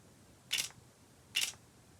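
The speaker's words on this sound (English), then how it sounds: "I'm just going to take a shutter or a shot so you guys can hear the shutter" Two crisp camera shutter clicks in manual mode from a Yongnuo 42.5mm F1.7 lens on a Micro Four Thirds camera, less than a second apart, close and clear against a quiet background.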